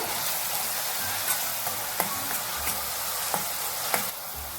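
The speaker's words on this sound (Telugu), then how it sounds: "ఆనియన్ పేస్ట్ కొంచెం బాగా వేగిన తర్వాత" Onion paste frying in a pan for a boneless konam fish curry, a continuous close sizzle with a few light spoon taps and scrapes scattered through.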